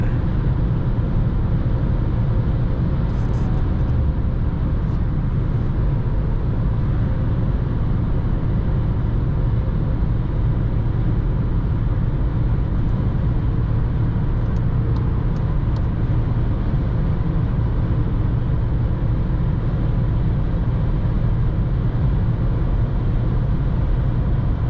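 A Skoda Fabia 3 with a 1.0 MPI 60 HP engine driven flat out on a highway, giving a steady, loud low engine drone and road roar that holds without a break.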